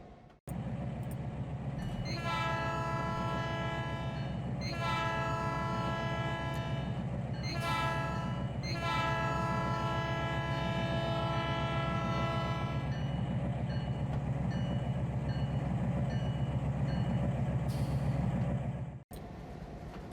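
A freight train rolls steadily through a busy rail yard, a continuous low rumble of cars running the whole time, while the locomotive's horn sounds in several long blasts, loud and close, over the first half.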